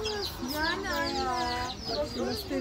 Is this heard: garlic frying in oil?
no